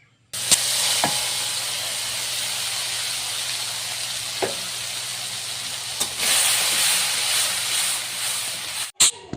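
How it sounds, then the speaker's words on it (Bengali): Blended spice paste hits hot oil left from frying fish, bursting into a loud, steady hiss and sizzle that carries on for several seconds with a few sharp clinks of a utensil, then cuts off. "এরপর ওই তেলে ব্লেন্ডার করে রাখা মশলাগুলো দিয়ে দিব।"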